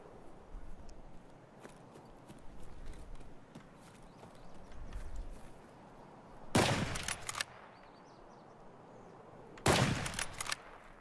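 Two loud, sharp bursts of gunfire in Escape from Tarkov, each a few shots fired close together over low background rumble and faint footsteps, with long quiet gaps between them.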